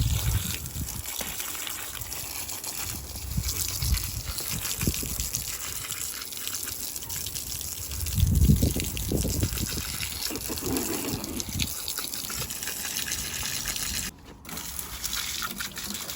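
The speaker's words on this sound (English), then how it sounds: "we're going to wash all this brick dust away" Water gushes steadily to wash brick dust away, a continuous close splashing rush lasting throughout and dipping briefly near the end, with no talking.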